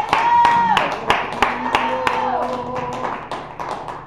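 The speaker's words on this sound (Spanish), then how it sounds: "Denle un aplauso a Jesucristo." A church congregation clapping, sharp separate claps in a loose rhythm over sustained voices or musical tones in the background.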